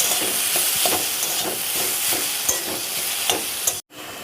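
Boiled potato stirred and mashed in a hot pan with a spatula, making a constant sizzle with regular scraping pulses throughout and a short dropout near the end.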